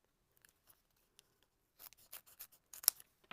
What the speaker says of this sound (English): I'm just going to grab some foam pads and just trim those down a little bit.